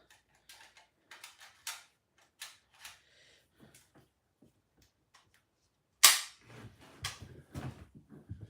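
A nail gun firing during a pantry build, giving sharp clicks and mechanical snaps spaced through quiet moments, then one loud bang followed by rattling handling noise.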